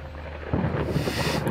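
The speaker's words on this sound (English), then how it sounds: "It's just thunder." Thunder in a horror video game: a deep rolling rumble that kicks in abruptly and keeps growling at moderate loudness, with a hiss of rain or wind above it.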